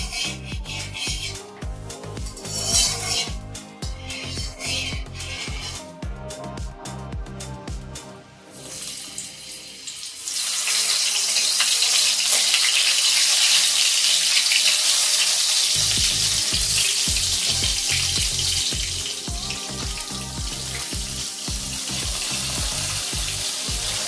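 Pieces of pointed gourd (potol), rubbed with salt and turmeric, frying in hot oil: a steady loud crackling sizzle that swells to a dense hiss midway and continues throughout, with faint clatter and no talking.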